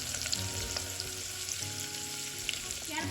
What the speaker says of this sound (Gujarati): અને હવે લગભગ આપણે ઓનિયનને 2 થી 3 મિનિટ માટે થોડો થવા દઈશું